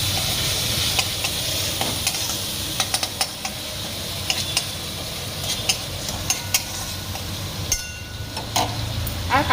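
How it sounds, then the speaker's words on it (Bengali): Spices with salt and turmeric stir-fried in a pan for chana dal, a steady sizzle under repeated close scraping and clinking strokes of a spoon. "1 চামচ লবণ, দিয়ে দেবো হলুদ, ভালো করে কষিয়ে নিতে হবে"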